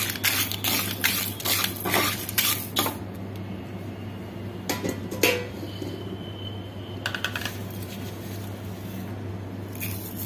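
Ingredients for chukkakura (sorrel leaf) chutney frying in a pan, giving broadband crackling and scraping bursts over a steady low stove hum, with occasional metallic stirring clinks that come and go.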